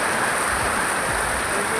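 Continuous heavy rain, a thick, even roar of water hitting surfaces without pause.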